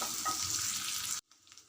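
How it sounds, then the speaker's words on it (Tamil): Onion and curry leaves sauté in oil for Nagercoil sambar, a dense close crackling sizzle with stirring that cuts off abruptly after about a second, leaving faint quiet sounds. "வெங்காயம் கருவேப்பிலை ரெண்டு நல்லா வதங்கணும்."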